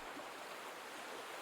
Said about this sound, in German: Ich höre Wasser in der Nähe.